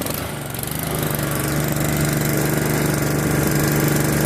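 A Honda HRX 217 lawn mower engine runs steadily right after a cold pull start with the throttle at high speed, a close, loud, even drone that builds slightly and holds.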